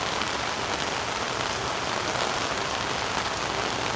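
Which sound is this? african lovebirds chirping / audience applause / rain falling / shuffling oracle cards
rain falling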